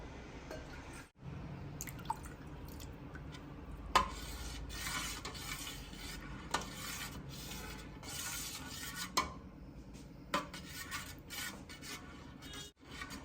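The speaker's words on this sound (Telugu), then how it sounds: "కొద్దిగా ఈ గిన్నెలో నీళ్లు కలిపేసేసి పోస్తాను" Ragi porridge is stirred with water in a bowl, a quiet, close scraping and swishing punctuated by occasional clicks of a spoon against the rim.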